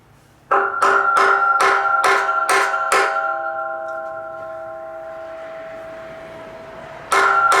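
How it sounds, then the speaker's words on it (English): Six quick taps of a small hammer on metal ring out in a steady rhythm, each leaving a bell-like tone that fades slowly, then one more tap strikes after a pause. "Maybe I'll get a little hammer and put pressure on it, kind of tap it."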